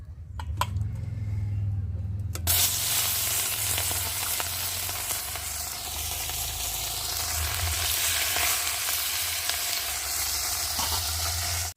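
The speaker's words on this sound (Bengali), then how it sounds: "তেলটা ভালো গরম হয়ে গেছে। আর আম একে একে মাছগুলো দিয়ে ভালো করে ভেজে নেব।" Parshe fish hit hot oil in a wok, starting with a few clinks and then a loud, steady, close sizzle and crackle that runs unbroken to the end.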